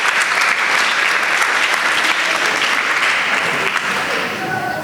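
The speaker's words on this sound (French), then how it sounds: "Applaudissez-le, le grand N'Golo Kanté." A crowd at a football club welcome event applauds a player with dense, loud, sustained clapping that holds steady for several seconds and eases slightly at the end, with voices mixed in beneath.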